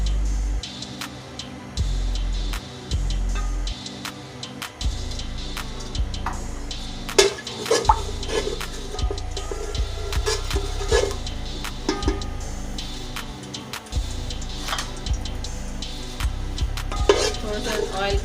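Oil is poured into a cooking pot and heats while Arabi with chicken is cooked, a low clatter of pot and utensil clinks with a soft sizzle building underneath, close and fairly quiet.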